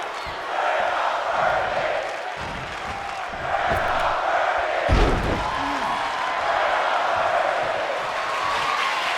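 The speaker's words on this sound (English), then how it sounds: "I believe the crowd is saying we're not worthy" A crowd in the WWE 2K24 wrestling video game chants steadily through the arena, a loud continuous murmur in rhythm, broken by a sharp slam thud partway through.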